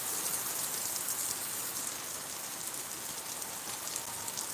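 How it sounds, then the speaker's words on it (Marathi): Heavy monsoon rain pours down in Bidkin, Chhatrapati Sambhajinagar, a dense, constant hiss at moderate volume that continues alone without pause. "भरपूर असा पाऊस बेडकींमध्ये झालेला आहे"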